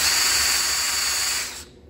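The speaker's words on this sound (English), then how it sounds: "I'll normally put the valve in the end of a drill here, tighten it up, and then get a Scotch-Brite pad" A power drill spins an engine valve from a 1997 Mustang Cobra motor rebuild against a Scotch-Brite pad, giving a loud high whirring hum with rubbing hiss that winds down and cuts off near the end.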